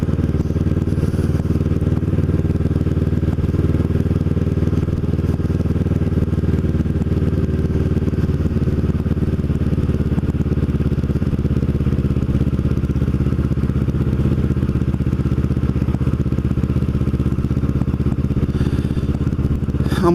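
A Kawasaki Ninja motorcycle rides steadily along town streets near Cape May, giving a continuous close engine drone with wind rush and no talking over it.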